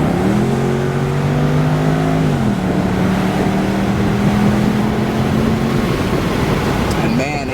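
A 2007 Jaguar XK convertible accelerates hard, its engine note climbing steadily through quick upshifts, with a pitch drop at each gear change. The sound is loud and continuous from inside the car, and a voice talks over it.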